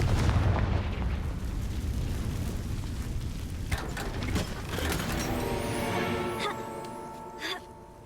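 A Confringo fire spell explosion in Hogwarts Legacy: a heavy rumbling blast fades into crackling, whooshing magical effects with mechanical rattles and a sharp hit near the end.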